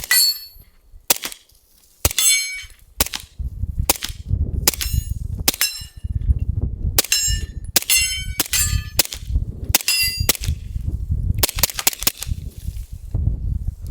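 A suppressed pistol fires subsonic rounds at a steel target, a string of about a dozen muffled pops, each followed by a sharp metallic ding of the struck plate, spaced irregularly with brief pauses.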